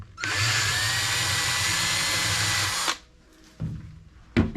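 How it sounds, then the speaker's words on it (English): A power drill drilling out metal whines loudly and steadily for about three seconds, then stops, followed by a few brief clunks and handling noises. "So I'm going to drill those out."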